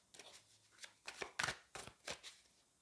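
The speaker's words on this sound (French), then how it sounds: "On va prendre 2 cartes." Oracle cards being drawn and shuffled from a deck during a love reading, a series of quick papery riffles and slaps, moderately close and quiet, with no talking.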